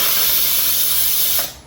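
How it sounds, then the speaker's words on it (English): An Instant Pot electric pressure cooker releasing steam as it is opened, a loud, close, continuous hiss that fades near the end. "you guys can see how much steam comes out"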